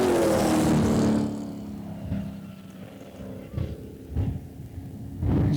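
A Chevelle and other race cars run at Hudson Speedway during a street stock race, a loud engine roar that fades off after the first second, followed by quieter passes and bursts of engine noise from farther away.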